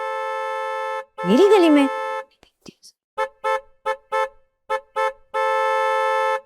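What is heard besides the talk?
loud vehicle horn honking in a street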